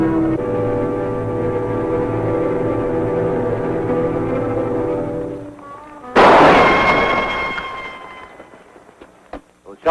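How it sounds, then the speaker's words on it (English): A single loud, reverberant gunshot cuts off a sustained musical tone in an old western TV scene, its echo fading over a couple of seconds before a few sharp cracks close the scene. "Those shots came from up there."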